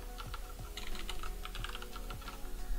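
Password being typed on a computer keyboard during Phantom Wallet setup: a close, steady run of light key clicks with small irregular pauses, no voices.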